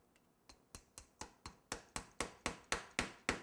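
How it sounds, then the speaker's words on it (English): Wooden dowel tapped down through cake cardboard inside a tall decorated novelty cake, with a dozen sharp rhythmic knocks that speed up and grow louder, struck in steady succession up close. "what I can use is this other dowel to hit it in there further"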